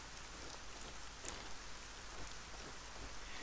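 Steady rain hisses in the Arcania: Gothic 4 video game, a soft, even wash of falling drops with no breaks, quiet and continuous with no voices.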